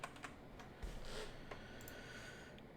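Quiet keystrokes on a computer keyboard, a few scattered clicks and short bursts of typing entering a search term, set against low background hum with no voices.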